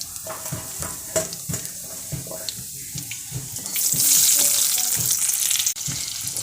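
A spoon scrapes and taps a pan in a steady rhythm, then a loud hiss of frying surges as diced onions, garlic and green chilies hit the hot oil.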